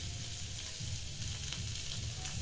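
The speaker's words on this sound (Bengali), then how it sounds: "একটু হলুদ গুঁড়ো দিয়ে দিলাম, দিয়ে একটু হালকা করে ভেজে নেব।" Potatoes with turmeric powder frying in a pan, a steady close sizzle of hot oil with faint stirring scrapes, continuous and fairly loud, no voices.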